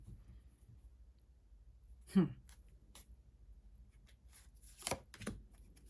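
A few soft card snaps and slaps sound in quiet surroundings, one crisp burst early and a couple more later, close by.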